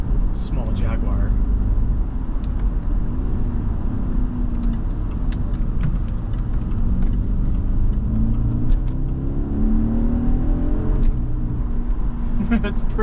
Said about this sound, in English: You just get that nice baleful groan of the engine, just kind of constantly reminding you that you're in a V8 small Jaguar.